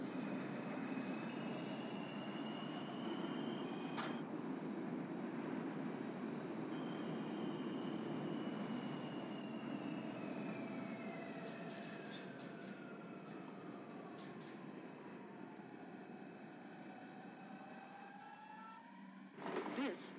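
An R142 subway train on the 2 line in the OpenBVE simulator runs steadily near Eastern Parkway in Brooklyn, with a continuous low rumble, rising and falling wheel whine and brief high squeals, alone, fading slightly toward the end.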